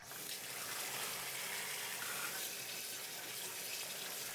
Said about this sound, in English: Then rinse them under cold water to stop the cooking process.